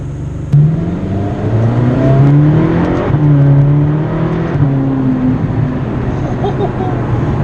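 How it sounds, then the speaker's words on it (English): A Ferrari California exhaust revs loudly, rising and falling in pitch over several seconds, with a voice talking underneath. "Hear the exhaust get proper loud for a few seconds and then release."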